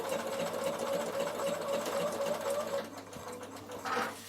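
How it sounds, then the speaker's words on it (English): A Bernina sewing machine stitches wool applique with a steady, close mechanical whir for about three seconds, then stops and leaves a quieter pause with faint handling sounds. "So I'm just going to stitch 1."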